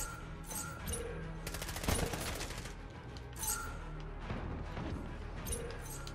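Rapid gunfire bursts from a Call of Duty Modern Warfare multiplayer match, with dense clattering shots and sharp blasts in quick succession, mixed under game effects.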